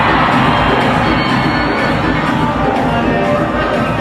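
A large crowd at Pawan Singh's wedding reception party makes a loud, steady roar of many voices and shouting that fills the whole stretch without pause.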